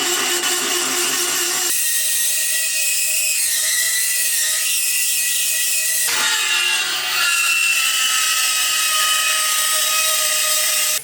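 A loud power drill whines and grinds continuously while drilling for an ill-fitting manifold during a British classic car V8 engine restoration, its pitch shifting between segments as it bites into material, with no voices over it.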